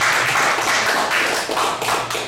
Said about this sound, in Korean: 앞에 옆에 계신 분들한테 박수 보내주시죠